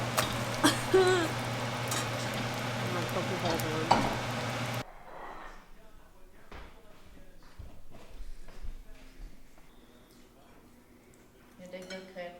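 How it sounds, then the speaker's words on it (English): Pancakes cook on a breakfast skillet, giving a bright sizzle with clinks of a utensil and pan for the first few seconds, after which the sound drops to quieter kitchen knocks and faint movement. "Making pancakes on the skillet for breakfast."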